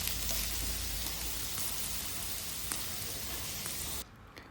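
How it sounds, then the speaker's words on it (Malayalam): Garlic cloves dropped into a hot pan for tomato chutney, a dense, bright sizzle with crackling pops that holds steady, then cuts off abruptly near the end. "അതിനായി ചൂടായ പാനിലേക്ക് 4-5 വെളുത്തുള്ളി അല്ലി ഇട്ട് കൊടുക്കുക"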